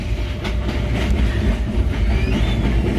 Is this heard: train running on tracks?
yes